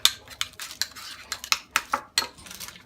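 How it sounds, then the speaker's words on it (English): Mustard is mixed into chicken with a metal utensil, giving a quick run of close, bright clinks and scrapes against a bowl. "Mix it together."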